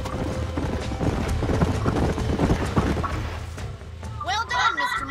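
Horses' hooves in the video game Red Dead Redemption, a quick run of clip-clop beats with mechanical creaks under it, followed by a brief high squeal or whinny near the end. Game sound runs throughout.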